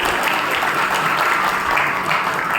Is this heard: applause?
yes